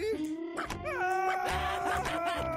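Cartoonish dog whimpering in the video game Stick It to the Man: a short run of high, wavering whines and yelps, close and fairly quiet, over a faint game background.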